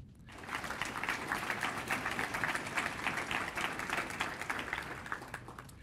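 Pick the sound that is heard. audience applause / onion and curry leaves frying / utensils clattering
audience applause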